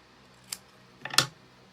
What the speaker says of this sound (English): let's just use the guillotine